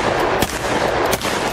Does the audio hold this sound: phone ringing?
no